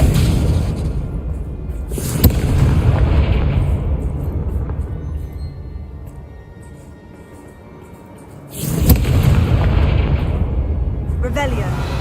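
Confringo explosive spell blasts in Hogwarts Legacy, two loud booming bursts with rumbling tails a few seconds apart, under game noise and a character's voice.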